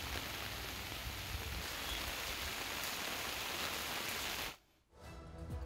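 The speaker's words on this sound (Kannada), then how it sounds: "ಕೊಡಗು ಜಿಲ್ಲೆಯಾದ್ಯಂತ ಭಾರೀ ಮಳೆ ಆಗ್ತಾ ಇದೆ" Heavy monsoon rain pours steadily over Kodagu district in Karnataka, a dense, continuous roar of rainfall that cuts out abruptly near the end and then returns more faintly.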